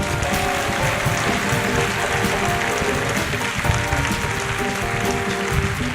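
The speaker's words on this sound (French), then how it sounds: "Je vous demande un tonnerre d'applaudissements pour nos musiciens et nos solistes." Concert-hall audience applauding an orchestra and its soloists, a thick continuous roar of clapping with a sustained musical tone running beneath it.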